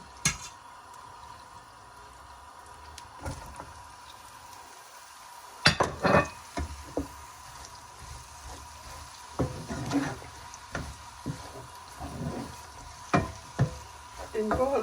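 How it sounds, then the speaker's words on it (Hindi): Sliced onions dropped into hot cooking oil in a wok, a quiet hiss followed by clinking and knocking of a spoon against the pan in irregular bursts, with faint background voices. "अब कढ़ाई में थोड़ा सा कुकिंग ऑयल डालेंगे और इसमें प्याज डालेंगे।"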